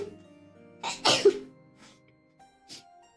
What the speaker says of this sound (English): I sneeze a lot. I sneeze even more